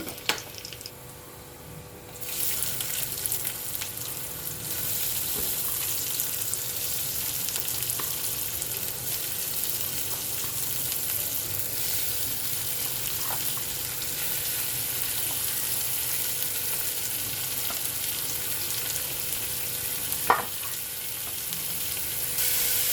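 Garlic and vegetables fry in a kadai for Maggi, a steady broadband sizzle running throughout with occasional light stirring clicks and scrapes, loud and close, with no voices.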